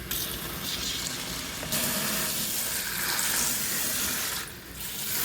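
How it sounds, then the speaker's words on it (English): Tap water pours steadily and loudly into a sink while something is rinsed out during setup of a small Seapora 2.3-gallon fish tank, its splashing shifting slightly as the flow changes, with no one talking. "I'm going to rinse it out and get all the floaters off the top."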